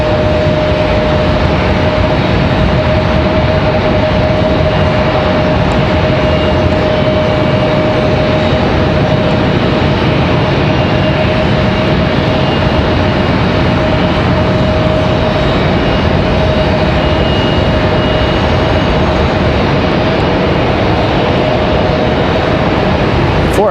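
A Delta airliner's jet engines give a loud, sustained roar with a steady whining tone running through it, unbroken and without voices.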